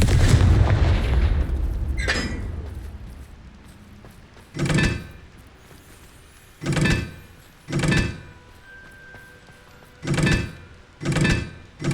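Confringo spell blasts in Hogwarts Legacy: a big opening explosion that rumbles away, then a series of heavy booming impacts at regular intervals, each a short thudding burst.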